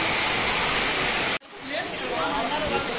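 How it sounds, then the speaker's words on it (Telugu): Heavy rain pours down along the Sabarimala pilgrimage route in Kerala, a dense, steady roaring hiss close by that cuts out abruptly for a moment before resuming just as strongly. "వర్షం మాత్రం బాగా పడుతుంది."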